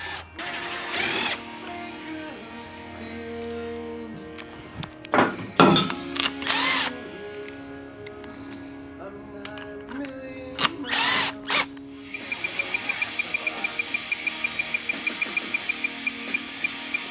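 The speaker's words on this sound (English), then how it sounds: "I'm gonna start with the gun and just go until it barely touches on all of them" A power tool gun tightens bolts on a KTM 300xc dirt bike with several loud, short whirring bursts and clunks, then a long run of rapid rhythmic hammering near the end.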